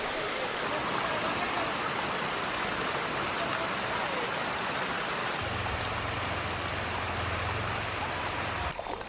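Rushing water from a waterfall in the Kundalika Valley at Tamhini Ghat near Pune, Maharashtra, a loud unbroken roar filling the space, with a low hum joining partway through.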